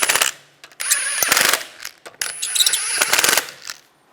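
Wheel lug bolts on a 2006-2009 Volkswagen Rabbit are run down and snugged, giving two long bursts of rapid metallic ratcheting and whirring with clicks and clinks, close and fairly loud, with a short pause between them.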